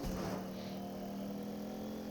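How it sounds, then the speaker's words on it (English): A video game car engine holds a steady, droning rev with a constant whirring hum throughout, no voices over it. "Cars are kind of noisy, but I think they're worth it."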